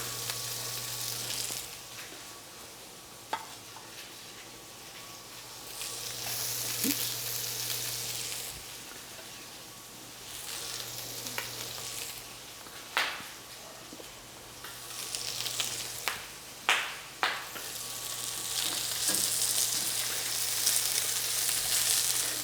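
Scallops and corn sear in a hot pan, giving a steady, close sizzle that swells and fades, broken by sharp spits and crackles, with no talking.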